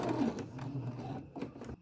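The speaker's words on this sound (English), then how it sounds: "What I'm doing now is sewing the bias strip that I cut around the neck edge." A sewing machine stitches a bias strip around the neck edge of slippery fabric, a quiet, close, rapid mechanical whirring with a brief pause near the end.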